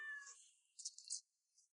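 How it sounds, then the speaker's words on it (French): A black cat gives a short meow, thin and faint, followed by a breathy high trailing cry and a brief fading squeak, with no voices over it. "N'aie pas peur, c'est juste un chat noir."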